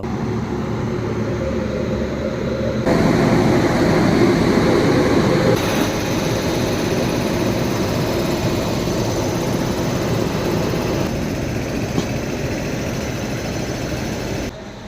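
Cuddalore Port–Mysuru Express passenger train running toward Mandya and Mysuru, a steady loud rumble and rattle of wheels and carriages throughout, swelling a little partway through, with no talking.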